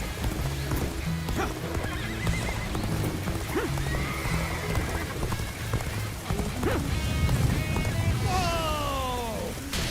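Horses in the video game Dynasty Warriors Origins neigh and whinny while hooves clip-clop and gallop over a rain-like patter, with the sounds close, loud and overlapping.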